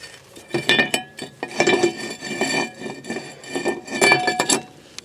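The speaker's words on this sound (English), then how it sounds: "Just go ahead and grab your new rotor and put it in place here." A new brake rotor being fitted onto the front hub of a 1998 Chevy Lumina gives a string of close metallic clinks and knocks in irregular bursts, with no talking.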